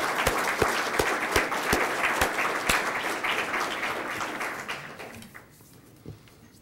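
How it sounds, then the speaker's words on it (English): An audience breaks into a loud, sustained round of applause, dense clapping that holds steady for about five seconds before thinning out and fading near the end. "he deserves a round of applause"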